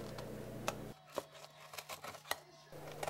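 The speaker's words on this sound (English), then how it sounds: "take your scissors and cut along the pattern that you drew earlier" Scissors snip through paper while cutting out a hand-drawn pattern: a string of short, sharp, close cuts at an uneven rhythm, faint and alone, with no talking.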